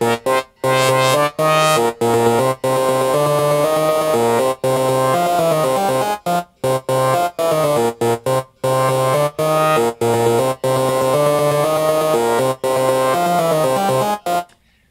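Hypnotic techno synth patch with a triangle LFO sweeping the filter cutoff, playing a loud, continuous repeating pattern of rich harmonic notes with short rhythmic gaps, and no voices.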